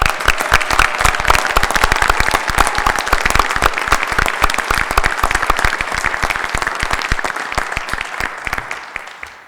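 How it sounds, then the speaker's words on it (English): Loud, sustained applause from an audience at an Upper Darby School District board meeting honoring the district's school nurses: dense, continuous clapping that holds steady and begins to thin toward the end. "Let's give them a round of applause."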